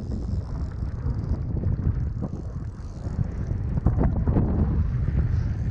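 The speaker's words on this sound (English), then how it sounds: "Getting windy out here." Steady wind on a Michigan lake buffets the microphone in a continuous low rumble, with faint gusting throughout and no voices.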